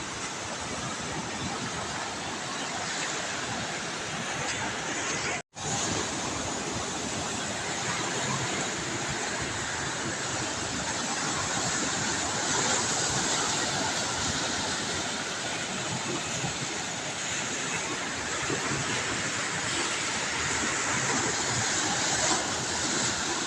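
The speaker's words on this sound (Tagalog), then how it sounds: "malalaki malalaking alon" Big ocean waves during a storm at sea, a loud unbroken roar of surf and wind that fills the whole stretch, with one brief cut near the start and no voices.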